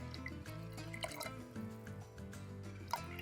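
Rose water poured generously into a dish while cooking a Mexican-Persian chile relleno and spicy salad, close trickling and dripping liquid with small splashes and clinks, faint and continuous.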